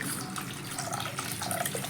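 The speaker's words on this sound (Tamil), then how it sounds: "இப்போ நம்ம தண்ணி ஊற்றிக்கலாம்." Water poured into a cooking pan of onion-tomato masala for Tamil egg curry (muttai kulambu), a steady close splashing and trickling pour lasting throughout with no talk.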